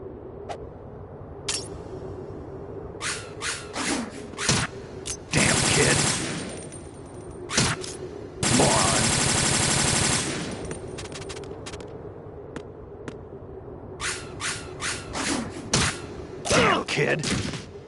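Bursts of gunfire from the video game Metal Gear Solid 2, several short shots and two long sustained automatic volleys, loud and close over a low steady game background hum.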